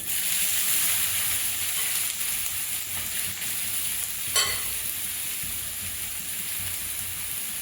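Raisins frying in a pan for carrot halwa, a continuous bright sizzle with crackling, interrupted once by a short scrape of a stirring utensil partway through.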